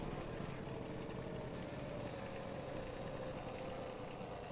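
A tractor engine idles steadily in a farming video game, a low continuous droning hum with slight vibration that holds even and unbroken throughout, with no voices.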